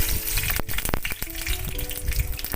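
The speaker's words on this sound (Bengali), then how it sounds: "কড়াতে সর্ষের তেল গরম হয়ে গেছে এতে আমি একটু কালো সর্ষে ফোড়ন দিলাম" Black mustard seeds hit hot mustard oil in a wok, giving a loud, steady frying sizzle with scattered sharp pops and crackles throughout.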